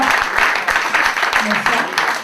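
An audience applauds poet Manouchka at the 2014 Granville poetry jousts. The clapping is fairly loud with a rhythmic, pulsing edge, and voices talk over it.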